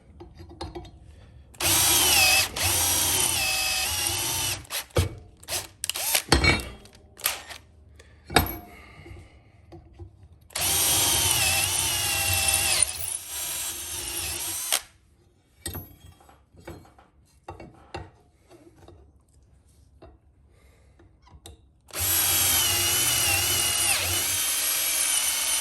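A power drill bores a hole through a steel cleaver blade in three loud sustained bursts of whining, grinding drilling, separated by quieter gaps of handling clicks and knocks.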